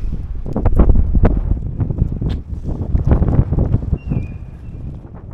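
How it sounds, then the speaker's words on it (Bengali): Strong, steady sea wind at Dover, England buffets the microphone in loud gusts and rumbles, with no voices, only a faint high tone passing briefly partway through. "এত হাওয়া এখানে সমুদ্রের ঠিক মাঝখানে যে এখানে বেশিক্ষণ থাকা যাচ্ছে না"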